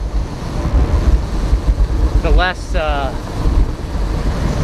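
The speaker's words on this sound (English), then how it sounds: "sorry, it's kind of windy." Heavy wind buffeting a microphone with low rumbling gusts throughout, and a brief spoken voice in the middle.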